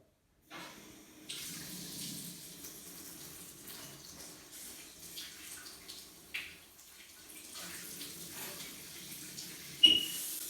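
Water runs in a home shower, a soft continuous splashing with small surges and a brief sharp clatter near the end, faint and close, with no talking.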